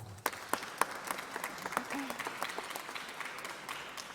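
Applause from a summit audience for a business honoree, a fairly distant, even patter of many hands clapping with a few sharper claps standing out, continuing throughout.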